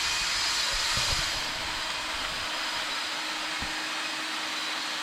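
A small Dyson vacuum cleaner sucking up sawdust from sanded logs, a loud continuous whooshing roar with a slight change in pitch early on, heard close and alone.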